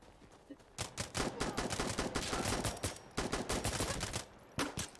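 Dense rapid gunfire in Insurgency: Sandstorm, with sustained bursts of automatic shots at close range that pause briefly and then resume, loud throughout.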